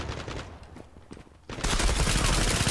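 Galil assault rifle fire in a video game: a rapid burst of shots, close and loud, cutting in after a quieter stretch of scattered firing.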